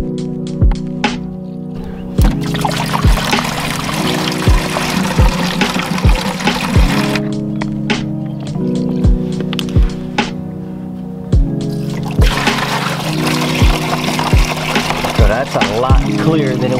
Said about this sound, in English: one of the final things we have to do is a coolant flush